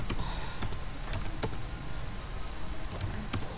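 Quick, irregular clatter of keys as a network configuration command is typed on a computer keyboard, fairly faint and close, over a low background hum with no talking.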